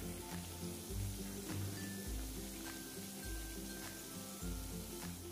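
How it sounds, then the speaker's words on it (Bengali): Langcha, a Bengali sweet, fries in oil with a faint, continuous sizzle and crackle, while soft low thumps recur every second or so underneath. "লাল লাল করে ভেজে নেব।"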